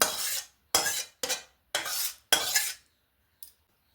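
Jackfruit curry scraped out of a cooking pan with a metal spoon after the heat is off, five close, distinct scraping strokes in a quick rhythm, then one faint tap.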